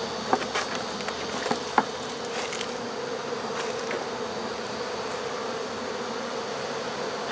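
Honey bees hum steadily during a humane hive removal in Central Florida, a dense continuous buzz close by with a few faint knocks early on and no speech.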